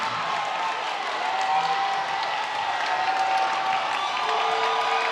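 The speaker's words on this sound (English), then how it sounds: "Listen to the crowd as they come to their feet in Benton." A high-school basketball crowd in a gym roars and applauds as fans rise to their feet, a loud continuous wash of cheering and clapping with a few whistles over it.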